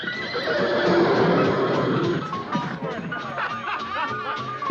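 Horse neighing and whinnying at moderate loudness, a sustained call in the first two seconds followed by softer snorts and movement, with a faint chuckle-like sound mixed in.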